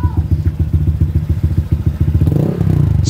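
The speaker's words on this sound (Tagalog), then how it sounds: "Mayroon siyang ingay dito sa may kanyang gulong. So testing natin." Honda ADV150 scooter at 41,000 km runs with a noisy torque drive bearing, giving a loud close rhythmic knocking clatter over the engine note that speeds up toward the end.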